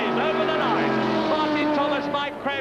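British saloon race cars from 1971 roar across the finish line at Crystal Palace, loud sustained engine drone with rising and falling pitch sweeps as cars pass close, while a commentator talks over the noise.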